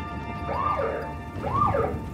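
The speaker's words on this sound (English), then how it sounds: "suddenly there's the sound of a siren" A police car siren wails in two rising-and-falling sweeps over steady traffic rumble, loud and fairly close, with no talking.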